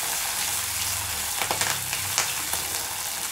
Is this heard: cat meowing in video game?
no